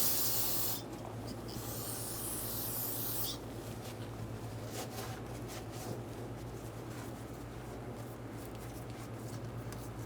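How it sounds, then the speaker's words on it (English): Hissing spray of parts cleaner at the start, then steady rubbing and wiping with a rag around the front brakes of a 2011-2014 Hyundai Sonata, over a low constant hum, close by. "we're going to spray the area where there's any wetness and wipe it off"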